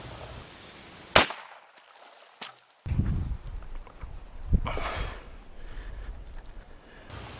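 A .38 Special +P revolver, 125-grain load, fires into a watermelon with one sharp, loud crack, followed by a thud and scattered spatter and rustling.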